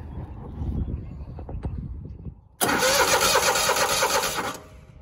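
A zero-turn lawnmower engine cranks over to check its fuel pump, first with uneven starter chugging, then a loud steady whir for about two seconds that trails off.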